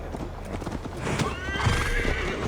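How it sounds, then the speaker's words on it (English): Horse hooves clip-clopping steadily during riding in Assassin's Creed Valhalla, loud and close, with a horse whinnying over the continuous steps. "Mount up, Eivor. It's a long ride to Tamworth."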